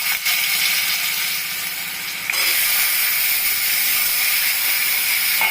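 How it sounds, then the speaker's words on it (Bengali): Potatoes frying in hot oil with black cumin in a pan, a steady broad sizzle that briefly dips and then swells again, close and continuous with no talking. "আলুটাকে একদম কড়া করে ভাজবো,"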